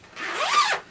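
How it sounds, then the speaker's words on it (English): A zipper on a padded rifle case is pulled open in one quick, rising rasp lasting under a second, close and fairly loud, with no voices. "Zippers and Velcro."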